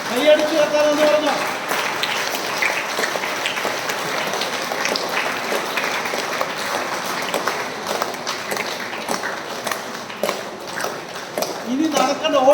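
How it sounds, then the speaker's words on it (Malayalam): A congregation at a parish retreat claps hands in a long, dense burst of applause, steady and crowded throughout, with voices mixed in underneath. "കൈയടിച്ചു വെക്കാനെന്ന് പറഞ്ഞു"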